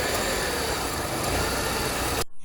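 A Volkswagen Golf 4 engine runs at a steady idle with the air conditioning compressor failing to engage, a constant close mechanical hum that cuts off abruptly near the end.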